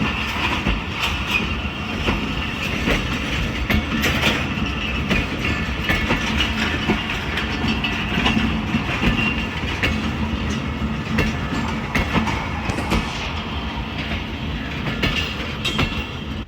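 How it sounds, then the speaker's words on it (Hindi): Awam Express passenger train rolling past at a station, a steady loud rumble with rhythmic clickety-clack of wheels over rail joints and occasional metallic clanks, sustained throughout with no talk. "तो ये चलेगी जी अवाम एक्सप्रेस रावलपिंडी, लाहौर और कराची की तरफ।"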